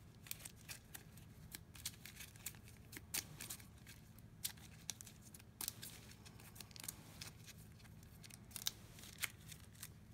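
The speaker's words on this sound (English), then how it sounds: "So let's shuffle the Fate deck and draw 3 more cards and discard them." A Fate deck of cards is shuffled during a solo game of the Villainous board game as Scar: quiet, scattered crisp clicks and papery riffles continue steadily throughout with no talking.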